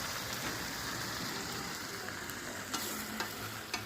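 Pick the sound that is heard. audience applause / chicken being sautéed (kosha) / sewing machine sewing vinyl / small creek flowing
chicken being sautéed (kosha)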